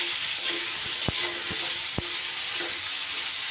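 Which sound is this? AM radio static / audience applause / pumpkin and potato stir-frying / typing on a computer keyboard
pumpkin and potato stir-frying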